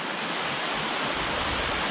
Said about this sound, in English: But pretty impressive waterfall though.